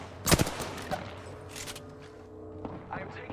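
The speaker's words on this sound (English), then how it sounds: "I am taking fire." Gunfire aimed at the player in the Apex Legends battle royale during a late-game ranked match, with a sharp close burst of shots near the start and scattered fainter shots afterward. A voice speaks over the shooting.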